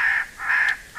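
A crow gives three loud, harsh caws in quick succession, close and clear with no other sound.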